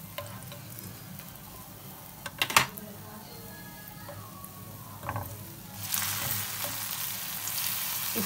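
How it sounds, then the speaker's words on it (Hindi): Bread slices for shahi tukray frying in oil, with a steady soft sizzle throughout, a couple of sharp clatters near the middle, and a louder, brighter hiss building over the final seconds. "इसी तरह हम सारे फ्राई कर लेंगे।"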